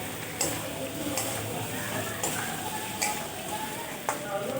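Chicken sautés with pre-fried potatoes in a pan for a red curry, a moderate steady sizzle with regular light taps and scrapes of a spoon stirring at intervals.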